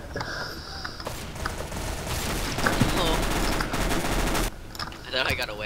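Rapid gunfire from Counter-Strike: Global Offensive in a gun game match, with loud dense bursts of automatic fire in the middle that cut off sharply, then scattered shots near the end.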